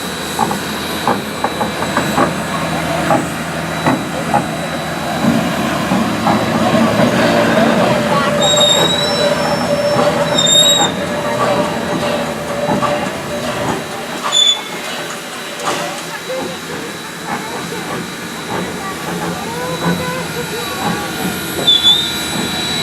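A steam train turning slowly on a turntable's central bearing, with low rumbling mechanical noise, metallic squeals and creaks, and scattered clanks, loud and near, while people talk nearby.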